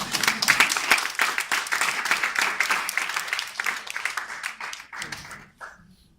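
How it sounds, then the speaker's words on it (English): An audience at a medical presentation claps briefly, scattered individual claps rising into light applause that tapers off and stops near the end. "Clap."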